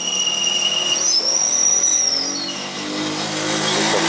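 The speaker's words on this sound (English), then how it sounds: "this little go-kart that's whipping around sure has a bad bearing or something on it" A go-kart with a bad bearing whipping around outdoors, giving a high whining whistle that glides and bends over a motor hum, then fades into a rougher engine rush. A voice speaks once briefly.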